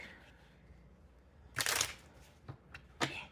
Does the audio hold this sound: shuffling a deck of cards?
yes